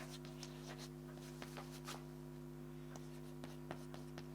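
Pen or chalk writing by hand during a Sanskrit grammar lesson, faint scratchy strokes in short bursts over a steady electrical hum, quiet and close.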